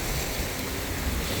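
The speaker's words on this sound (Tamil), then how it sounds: "அது வந்து கடல் அலை வந்து அடித்து கொண்டு வருது" Sea waves crash and surge against the shore during coastal flooding, a steady broadband roar with wind noise buffeting the microphone throughout, close and continuous with no distinct breaks.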